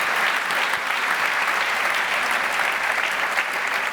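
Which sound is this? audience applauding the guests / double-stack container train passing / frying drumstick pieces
audience applauding the guests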